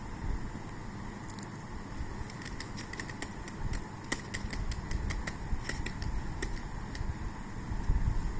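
Fingers tap a computer keyboard while typing text into a document, a run of irregular crisp clicks over a steady background hiss, some strokes sharper and louder than others.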